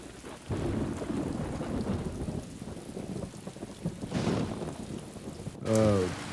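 Heavy rain pours steadily during a thunderstorm while low thunder rumbles through it, and a sharp, close crack of thunder breaks near the end.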